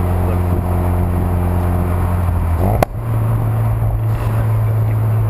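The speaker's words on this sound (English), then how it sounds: "if I rev match the downshift now" A Ford Focus RS engine hums steadily inside the car, then blips sharply upward in pitch during a rev-matched downshift and settles at a higher, droning engine note.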